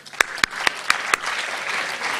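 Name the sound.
seminar audience clapping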